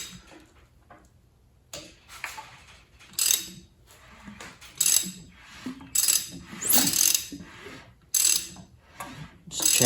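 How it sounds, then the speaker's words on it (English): Repeated creaking and ratcheting mechanical squeaks in irregular bursts, close by, as a heavy engine stand holding a Ford 445 FE engine is turned, with quiet pauses between. "Got a creaky engine stand."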